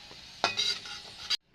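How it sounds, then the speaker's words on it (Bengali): Chopped onions fry in hot oil in a kadai, giving a brief close burst of sizzling and spatula scraping that stops abruptly. "গরম হয়ে গেছে, তো আমি এখানে পেঁয়াজ কুচি দিয়ে নিয়েছি।"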